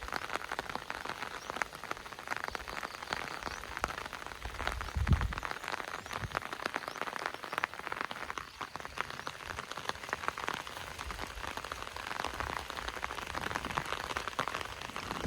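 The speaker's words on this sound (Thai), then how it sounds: "เราชมสวนเราชมบรรยากาศฝนตกยามเช้าสดชื่นเด้" Morning rain falls on a garden, a steady, even patter of drops on leaves and surfaces with no talking.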